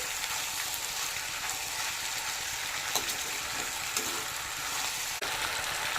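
Onions sizzling in an oil tempering in a pan, a dense, even crackle close by with a few soft stirring clicks and no voices.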